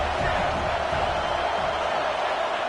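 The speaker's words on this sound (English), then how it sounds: "This crowd bringing the energy and noise early." Simulated stadium crowd from the video game College Football 26, at an Auburn home game against South Alabama, roars as a dense, constant wash of noise throughout.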